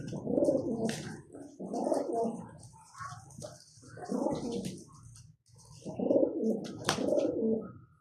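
Several rounds of deep, throaty pigeon cooing come in rolling bursts, close and fairly loud, with brief pauses between them.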